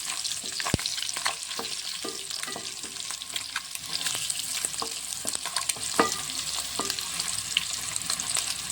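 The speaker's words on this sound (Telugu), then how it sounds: "ఇప్పుడు పసుపు ఒక సగం చెంచా వేసుకొని మంచిగా కలుపుకుందాం" Eggs frying in a pan with half a spoon of turmeric stirred through, a constant crackling sizzle broken by sharp scrapes and taps of the spoon against the pan, close and fairly loud.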